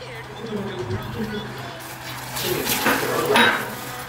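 Tamarind pulp stirred into melted jaggery in a pan, with soft scraping and a few clinks of the spoon against the metal, louder toward the end, while someone talks over it.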